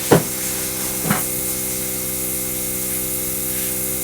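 An airbrush spraying lacquer paint onto a scale Eduard Messerschmitt 109K model gives a steady, close hiss throughout, with two short bumps near the start and no talking.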